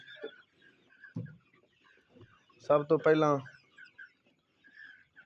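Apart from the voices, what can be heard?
chickens clucking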